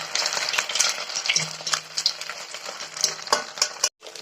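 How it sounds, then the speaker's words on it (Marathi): Vadas deep-frying in hot oil in a pan, a steady bright sizzle with a spoon scraping and ladling oil over them, close and continuous with small clinks. "चमच्याच्या सहाय्याने आपण याच्यावरती तेल असं टाकून घ्यायचं, जेणेकरून आपले वडे पूर्ण चारही बाजूनी व्यवस्थित भाजले जातील"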